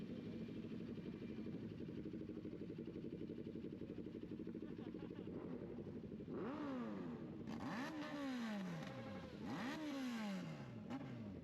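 Several sport motorcycles, among them a 2023 BMW S1000RR, a Yamaha R1, a Suzuki Hayabusa and a Kawasaki Ninja 650, rumble steadily while riding, then loud rising and falling revs sweep past repeatedly in the second half.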